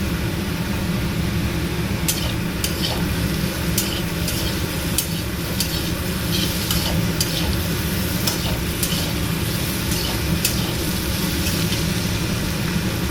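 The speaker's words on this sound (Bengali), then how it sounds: "আলুটা প্রায় ভাজা ভাজা হয়ে গেছে।" Potatoes fry in a pan with a constant loud sizzle, punctuated by a regular series of sharp clicks and scrapes from stirring.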